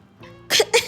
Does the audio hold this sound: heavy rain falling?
no